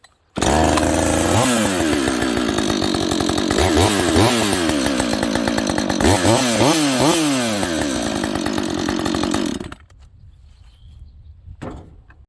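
A Husqvarna chainsaw, either the 365 XTorq or the 562XP stock saw, runs loud and close on a steady fast idle with a rough buzzing drone, then cuts off abruptly, leaving a quiet tail.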